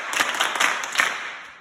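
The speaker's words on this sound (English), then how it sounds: "Everybody clap for him." A classroom of pupils claps briefly for a classmate, a short, close burst of scattered hand claps that fades out within about a second and a half.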